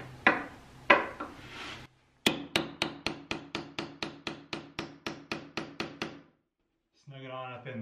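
A hammer drives a nail punch into tongue and groove wood siding, with a couple of heavier blows, then a quick run of about fifteen evenly spaced, sharp metallic taps, close and loud, followed by a short pause and a voice.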